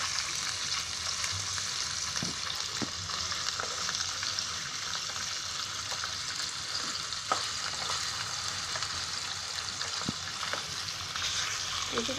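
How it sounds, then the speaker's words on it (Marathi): Pieces of rawas (salmon) fish fry in hot oil, giving a steady, even sizzle with scattered small crackles and pops throughout, close up and with no talking. "याची चांगली तेलामध्ये अशी थोडी फ्राय करून घेतली ना"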